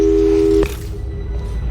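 A phone call busy tone from the video game Portal 2 sounds as a steady, loud electronic beep that cuts off abruptly after a moment, leaving quiet background hum.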